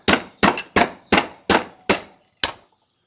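A hammer taps a coin punch to cut a silver ring from a coin, seven sharp metallic strikes in a steady rhythm, close and clear with quick decays and no talk.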